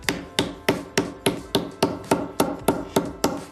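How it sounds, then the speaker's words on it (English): A sinking hammer strikes metal being shaped over depressions in a wooden stump, landing about a dozen sharp, evenly spaced blows close by with a ringing metallic attack. "The first step is to shape the metal, and that'll be roughed in with this sinking hammer and this wooden stump with some depressions in it."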